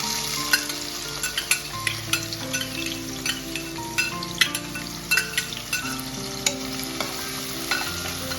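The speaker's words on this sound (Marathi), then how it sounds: "आता आपण त्यामध्ये हा बारीक चिरलेला कांदा टाकणार आहोत।" Finely chopped onion sizzles steadily in half a bowl of hot oil for a Kolhapuri mundi rassa, with a constant frying hiss broken by frequent small pops and light stirring taps.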